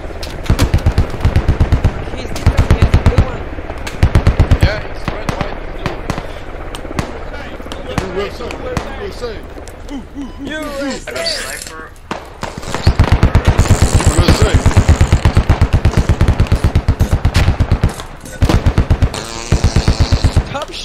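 Rapid automatic gunfire in a video game, dense bursts of close, loud shots broken by short pauses, with a stretch of quieter game noise in the middle before the firing resumes.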